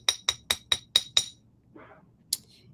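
Six quick, evenly spaced metallic taps of a hammer flattening jewelry wire earring loops on a hard block, bright and close, followed by a soft rustle and one more tap.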